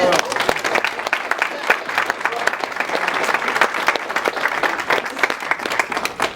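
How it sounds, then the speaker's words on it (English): An audience at the Black Family Reunion breaks into sustained applause, many hands clapping in a crisp, continuous patter that holds steady for several seconds, with a voice faintly present underneath. "He deserves a round of applause."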